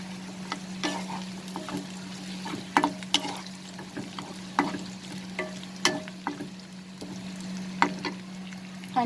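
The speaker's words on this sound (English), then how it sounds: "Then we will add the capsicum." Capsicum stir-fries in a pan over a medium flame for pepper chicken: a soft sizzle runs underneath while a spatula clicks and scrapes at irregular intervals. A steady low hum sits in the background.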